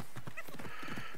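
Horse hooves clip-clopping at a steady trot while riding in the video game Assassin's Creed Odyssey, rhythmic and fairly close, with a brief whinny-like tone partway through and no talking.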